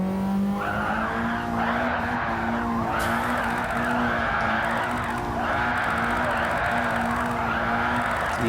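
Car tires skid and squeal continuously while sliding through a drift, with a steady engine drone underneath and a few faint voices in the background.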